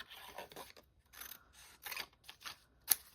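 Scissors snip through a cardboard file folder piece in several short, crisp cuts and rustles, close and fairly quiet, with a sharp snap near the end.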